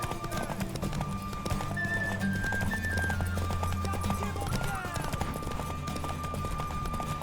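Rapid, steady clip-clop of horse hooves from The Witcher 3 video game, with a whinny in the middle, music and in-game voices underneath.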